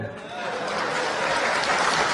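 An audience claps at a political speech in London, a broad, even wash of applause that builds and holds steady without fading.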